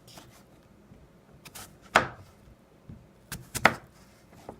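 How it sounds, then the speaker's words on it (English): A knife chopping food on a cutting board with a claw grip, a few sharp separate cuts with quiet gaps between them, close and clear with no talking. "when you're going in a claw, you just cut like this and move back"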